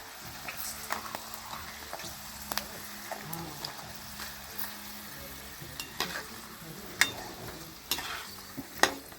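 A papad roasts in a pan, giving a soft, steady sizzle with scattered scraping and crackling taps as it is pressed and turned, fairly close and moderately quiet.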